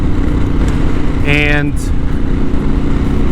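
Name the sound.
Harley-Davidson Pan America motorcycle with Vance and Hines exhaust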